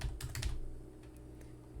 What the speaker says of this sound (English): Give me a second to type all this out.